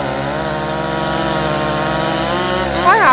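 A chainsaw running steadily while cutting down Sao trees, a loud close buzzing drone with a sharp rev near the end and no talk.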